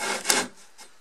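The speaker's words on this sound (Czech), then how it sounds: "A když povolíme a necháme to jako kdyby tu pilu jenom klouzat, tak krásně, krásně řeže." A hand saw cutting through wood with light pressure: one strong rasping stroke, then a softer shorter pull, close and clear.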